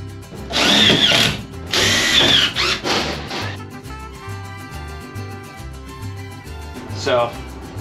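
Power drill driving self-drilling screws into a metal van beam, two loud close whirring runs followed by a shorter burst, with a person talking throughout.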